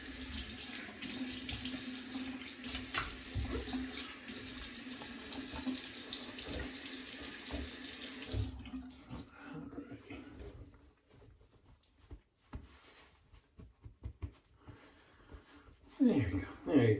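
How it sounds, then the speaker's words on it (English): Tap water runs steadily into a sink to rinse alum off, a broad continuous rush for about eight seconds that then stops, leaving quieter handling sounds and a voice speaking nearby. "Rinse off the alum."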